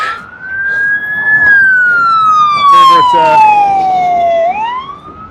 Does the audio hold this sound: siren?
yes